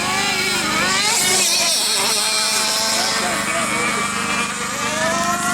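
Hydroplane race boat running during a boat race, a loud continuous roaring engine whine with shifting pitch throughout, with a voice talking over it.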